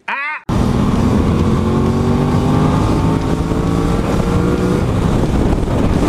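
Motorcycle being ridden, its engine droning loudly and steadily with rising and falling revs under heavy wind rush, after a brief quieter moment at the start.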